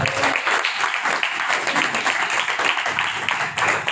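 A church congregation gives loud, sustained applause for about four seconds, a dense wash of many hands clapping steadily throughout with no talk over it.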